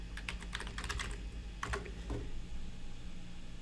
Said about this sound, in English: I'm going to hit enter a couple times and type processing.